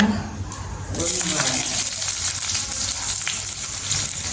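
Garlic and onion hit a hot pan and burst into a loud, steady frying sizzle after a quieter first second. The hiss holds close and continuous, with light stirring scrapes beneath.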